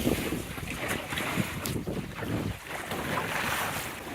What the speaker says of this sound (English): This waves are coming off the break wall here, making for a sloppy mess